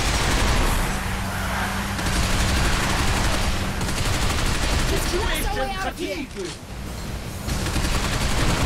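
Gunfire rattles in Binary Domain in a sustained, loud spray of automatic shots and impacts, with a brief dip near the end before it resumes, and a voice talks over it.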